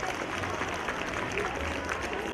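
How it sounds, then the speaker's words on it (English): Crowd applause for medal winners at a school Independence Day celebration, a moderately faint, continuous patter of many hands clapping with some crowd murmur underneath. "Please give them a huge round of applause"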